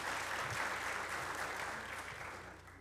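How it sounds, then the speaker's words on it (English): Brief, quiet applause at a city council meeting in Linden, New Jersey, recognizing U.S. women's medal winners, a soft, uniform patter of clapping that fades slightly toward the end. "Go ahead, clap now."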